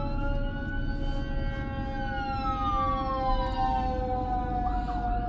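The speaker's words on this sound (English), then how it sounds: "some kind of ambulance passing by" An ambulance siren wails past in the distance, its tone sliding downward as it goes by over steady low traffic rumble.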